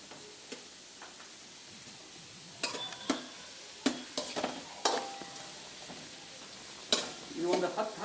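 Sliced onions frying in oil in a pan, being stirred with a spoon: a soft low sizzle beneath sharp, irregular scraping and clinking strokes that grow busier toward the end, close by.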